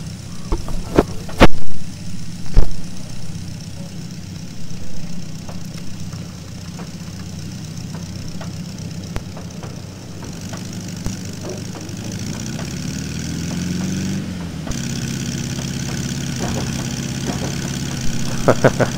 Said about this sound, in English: Love the gear shift sound